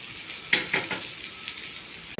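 Okra sizzles in a pan of hot oil with turmeric and chili, giving a steady close hiss with a few soft stirring scrapes and clicks and no talking.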